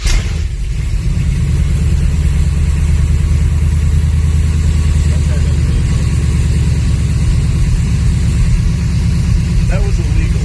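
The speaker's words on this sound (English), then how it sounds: "The engine should run, or should fire and run and come to an idle." A big-block V8 GMC truck engine with fuel injection rumbles steadily at idle, loud and close, with a constant deep throb that continues throughout.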